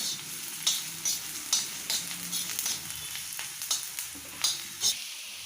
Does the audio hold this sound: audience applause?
no